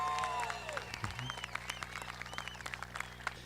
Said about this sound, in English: How about a round of applause for the West Side Boosters?